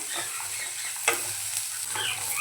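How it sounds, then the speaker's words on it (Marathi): Onion sautéing in a pan for paneer matar masala, heard as a steady close sizzle and frying hiss with a few soft stirring scrapes, with no talking. "कांदा आता लालसर होईपर्यंत आपल्याला परतवायचा आहे।"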